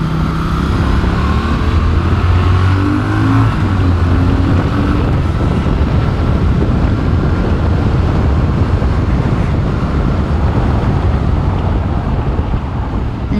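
A Triumph Thruxton RS café racer motorcycle rides at speed while overtaking, its engine droning steadily and loud under heavy wind buffeting on the microphone throughout, with a brief rise in engine pitch early on.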